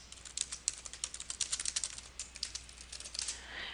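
Rapid, uneven keystrokes clatter on a computer keyboard, a steady burst of typing with no voices.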